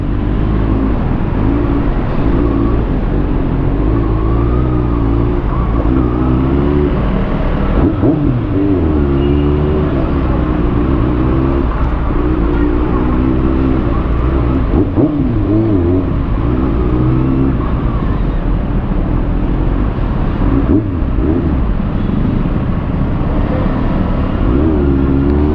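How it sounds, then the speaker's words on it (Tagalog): Rush-hour traffic near the LTO Araneta branch, a steady loud rumble of car engines with repeated revving swells rising and falling throughout, close and continuous without any voices. "Traffic talaga lagi dito, lalo nga pagka ganitong oras, medyo rush hour."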